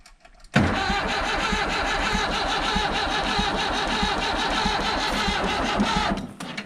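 An old Massey Ferguson backhoe diesel that had sat unused for years cranks and catches abruptly, then runs loud and rough with a steady throbbing idle and slight revving before cutting off near the end.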